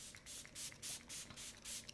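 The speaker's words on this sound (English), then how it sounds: "this is a really nice setting mist" Setting mist spritzed toward the face, a run of short pressurized hissing bursts in a fairly steady rhythm, about seven quick sprays close to the microphone with brief pauses between, no voices.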